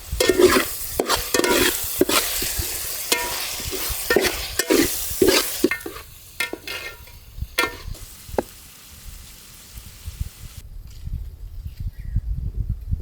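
Ginger and garlic fry in a pan with repeated scraping stirs and a sizzle, loud at first, then thinning out to sparse clinks and a fainter hiss.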